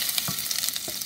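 Ginger sizzling steadily in hot oil for a rava pongal tempering, with faint stirring clinks over a continuous, close crackle.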